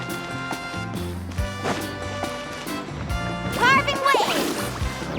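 A surfboard carves through waves in Genshin Impact, with a sloshing water rush under a busy game music score and a brief burst of splashing near the end.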